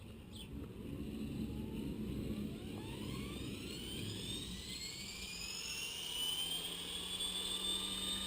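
A radio-controlled model helicopter spooling up for takeoff: a steady, loud whine and whoosh with tones gliding upward as the rotor gains speed, continuous and near, with no talk.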